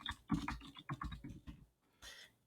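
Fingers type on a computer keyboard, a quick close run of soft key clicks over about a second and a half, then a brief pause and a final few taps.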